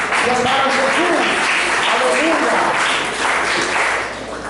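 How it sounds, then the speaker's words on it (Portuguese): Church congregation applauding during a worship service, a steady wash of clapping lasting several seconds with voices and cheering mixed in, tapering slightly at the end. "Pode sentar e dar uma salva de palmas bem alegre para Jesus."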